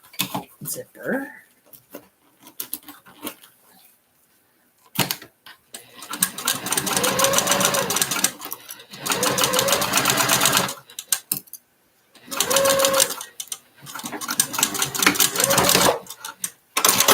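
Vintage sewing machine, used for quilting and handbag making, stitching in several bursts of rapid, steady mechanical chatter separated by short pauses, fairly close and loud, with a voice talking in the gaps.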